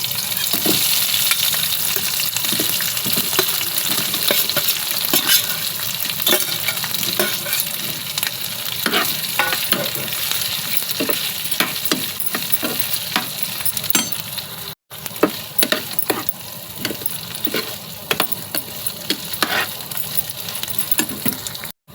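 Potato pieces fry in a pan with green chillies, curry leaves and cumin, making a loud, steady sizzle. Frequent metallic clinks and scrapes of stirring run through it, with no voices.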